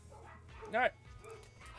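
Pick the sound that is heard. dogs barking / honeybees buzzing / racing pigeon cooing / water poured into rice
dogs barking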